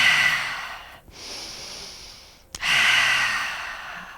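Strong, close breathing during a yoga session: a long forceful exhale, then a brief held pause, then another loud exhale, with no speech.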